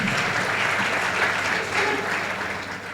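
An audience claps loudly and steadily at a felicitation ceremony, a dense wash of applause that holds nearly level for about three seconds and fades slightly at the end.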